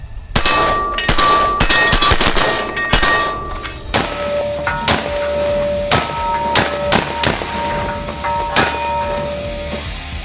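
Rapid sharp 5.56 NATO rifle gunshots crack out in bursts while testing a helmet, some tightly spaced and others single, loud and close with ringing metallic tails between them.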